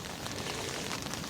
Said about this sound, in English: at least it is rain coming down and not snow